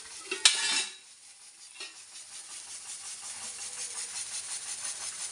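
Food roasting in oil on a hot pan, opening with a sharp clatter of a utensil, then a low continuous sizzle with light stirring.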